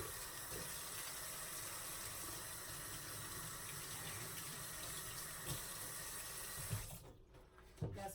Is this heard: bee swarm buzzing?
no